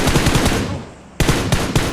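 Rapid automatic gunfire from a BGMI match, a burst of bursting shots that stops briefly and then resumes loudly, with no talk over it.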